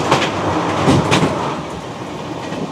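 A long-distance express train from Kanyakumari to Dibrugarh, the Vivek Express, crosses the Baitarani river bridge with a loud, steady rumble and rhythmic rail clatter that carries on without a break. No voices.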